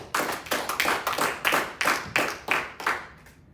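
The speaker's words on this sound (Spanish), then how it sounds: "Dele un aplauso a Cristo." A church congregation claps in rhythm during a sermon, about nine distinct, evenly spaced claps from many hands close by, fading out at the end.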